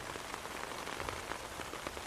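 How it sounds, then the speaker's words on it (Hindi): Heavy rain pours down steadily, a dense, even hiss of drops striking surfaces close by, with no voices over it for the whole stretch. "बारिश काफी तेज है ना"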